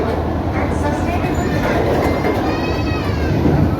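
An AC local train on the Bongaon–Sealdah line runs through Masalandapur station without stopping, a loud steady rumble with rail rattle and faint squealing tones, heard from close by.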